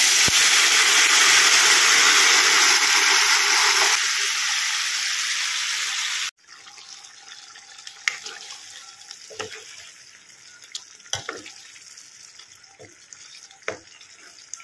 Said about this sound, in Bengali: এবার এই যে দেখো ঢেলে দেবো প্রেসার কুকারের মটনটা